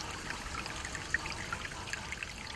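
Clean water from a protected natural spring on a Brazilian farm trickles and dribbles steadily, a faint continuous flow with small splashing droplets.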